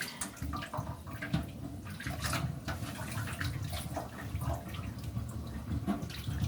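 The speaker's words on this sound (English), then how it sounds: "let's clean up this sink because there's a lot going on in this sink" Tap water runs into a kitchen sink during cleanup, a steady splashing flow with small clatters and drips, moderately close and without speech.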